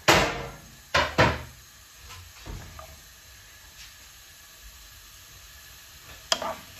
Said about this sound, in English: I'm just going to go in with my garlic and my mushroom and red pepper and red onion